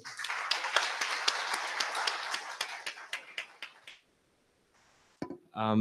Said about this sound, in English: Can we get another round of applause, please, for our panelists?